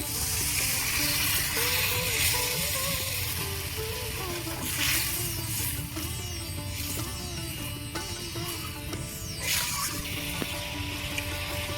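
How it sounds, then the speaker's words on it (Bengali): Coconut milk gravy with poppy seed and cashew paste bubbles in a pan for mourala fish malai curry, a soft continuous simmering hiss with faint intermittent pops, no voices. "গ্রেভি ফুটছে"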